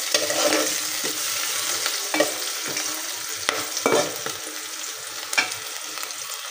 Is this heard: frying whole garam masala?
yes